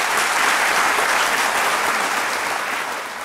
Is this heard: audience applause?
yes